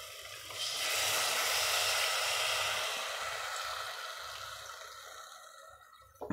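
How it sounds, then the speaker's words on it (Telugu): Soaked tamarind juice pours into a pot of Nellore-style dry fish curry as a steady splashing rush that swells early, then gradually thins and fades. "ఇప్పుడు ముందుగా నానబెట్టుకున్న ఈ చింతపండు రసాన్ని దాంట్లో పోసుకోవాలి."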